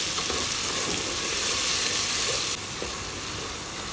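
Chopped tomato sautéing with ginger garlic paste and salt in a pot for vegetable pulao, a loud steady sizzle and hiss up close with a few faint stirring scrapes and no talking.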